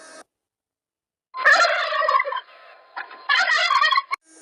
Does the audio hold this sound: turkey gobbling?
yes